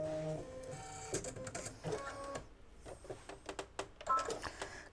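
An embroidery machine stitches stars in gold thread on an in-the-hoop mug rug, producing close, rapid bursts of mechanical whirring and clicking with short pauses between runs.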